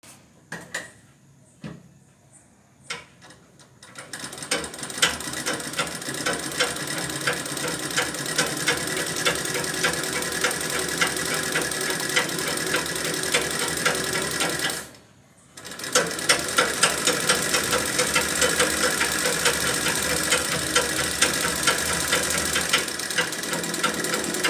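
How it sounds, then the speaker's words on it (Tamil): A large sewing machine stitching fabric, running with a fast, steady mechanical clatter for long stretches after a few slow initial turns, stopping briefly midway before resuming. "சரி, அப்போ நம்ம தச்சு பார்க்கலாம்னு தச்சு பார்த்தேன்."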